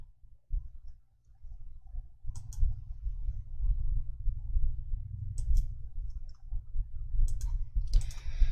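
A few sharp, quiet mouse clicks on a merge icon in Excel, spaced apart and set over a steady low hum from a computer fan.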